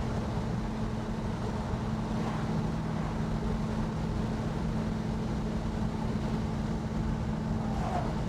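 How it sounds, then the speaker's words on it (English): A 1965 AMC Marlin V8 engine rumbles steadily and low while the car cruises along a farm road, a continuous near drone with road and wind noise and no pauses. "Great V8 rumble"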